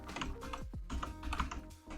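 Rapid typing on a computer keyboard while coding, a quick, irregular run of close key clicks with no one speaking.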